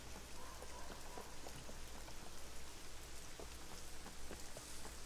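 Heavy downpour in the survival game SCUM, a dense, unbroken hiss of rain on surfaces, fairly close and steady throughout with no voices.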